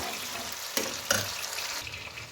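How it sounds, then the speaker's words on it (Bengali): Ground cabbage paste frying on a high flame, a steady close sizzle with two brief stirring scrapes, no voices. "এবার ওই বেটে রাখা বাঁধাকপিটা আমি এর মধ্যে দিয়ে দিলাম হাই ফ্লেমে আমি নাড়ব"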